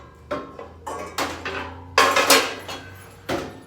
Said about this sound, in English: So I'm gonna go ahead and get me a pan out.